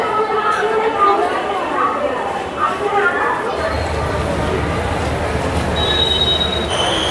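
A train at Puri railway station, rumbling and screeching on the rails with high squealing tones, amid crowd chatter and voices, loud and close throughout, with a low engine hum joining midway.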